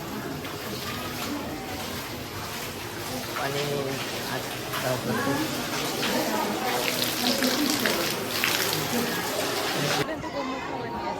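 Water pours steadily at a Hindu temple, a broad continuous rush that swells slightly midway and stops abruptly near the end, with people talking and chattering over it.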